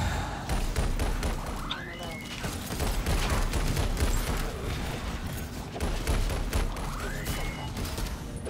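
Rapid bursts of weapon fire from the video game Alienation crackle steadily throughout, layered with explosive thuds and game effects, while a player talks over the action.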